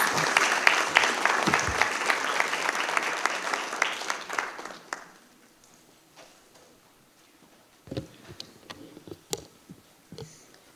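Audience applause at a school district board of trustees meeting, a loud burst of many hands clapping that fades out after about five seconds, followed by quieter room noise with a few scattered claps and thumps.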